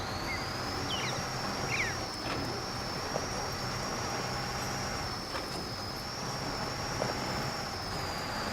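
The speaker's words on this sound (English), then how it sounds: "Turbo diesel. Here's the turbo whine." A turbo diesel truck in SnowRunner gives off a steady, high turbo whine that holds one pitch throughout, over a low engine rumble and a few faint clicks.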